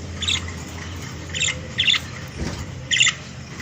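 Pet canaries kept indoors give short, bright bursts of chirping calls, about five brief clusters spaced irregularly over a low room hum, moderately close with no talking.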